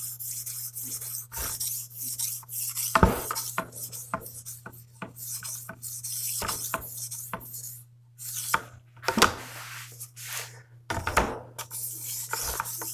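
A cleaver blade is drawn over a sharpening stone in repeated rasping strokes, close and fairly loud, with a constant low electrical hum underneath and brief pauses between passes.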